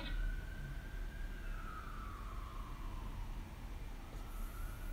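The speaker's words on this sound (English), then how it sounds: "that siren might be issue." A distant emergency siren wails steadily, rising and falling over a constant low rumble of traffic.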